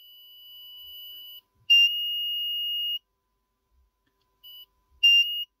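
An electronic buzzer module on a 4-digit static LCD gives short, steady, high-pitched beeps of varying length with silent gaps, clean and close.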